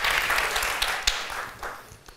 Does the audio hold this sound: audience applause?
yes